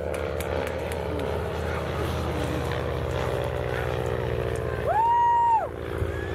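A PT-17 Stearman biplane makes a high-speed pass at an airshow, its propeller engine a steady droning roar that swells briefly loud near the end; an announcer's amplified voice carries over the noise.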